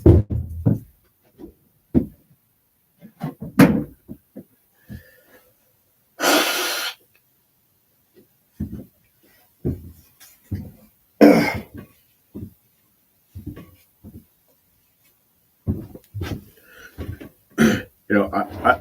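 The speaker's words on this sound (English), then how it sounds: "I gotta blow my nose." Someone blows their nose in a few loud, breathy honks, with sniffs, coughs and clearing of the throat between them.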